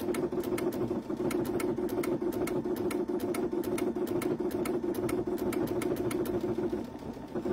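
A Baby Lock Altair 2 sewing machine runs quilting stitches at a steady, rapid, even rhythm, loud and close, with a continuous motor hum that eases slightly just before the end.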